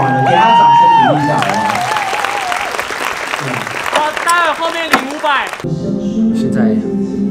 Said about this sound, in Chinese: 给他掌声鼓励一下。